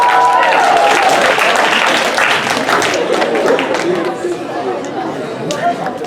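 A crowd at a comedy hypnosis show breaks into loud applause mixed with chatter, starting strong and gradually tapering off over several seconds.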